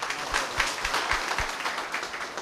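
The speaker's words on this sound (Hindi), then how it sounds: "तालियां बजाओ इन 9 आदमियों के लिए" An audience at a motivational talk applauds nine men, moderately loud dense clapping with a few low thumps near the start, carrying on steadily at a slight distance.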